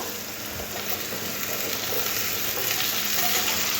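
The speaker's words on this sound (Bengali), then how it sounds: "ঢেঁড়শগুলো আলুর সাথে একটু নাড়াচাড়া করে একটু ভেজে নিতে হবে" Okra and potatoes stir-fried in a pan, a steady close sizzle of frying with soft scraping of the stirring running continuously throughout, no voices.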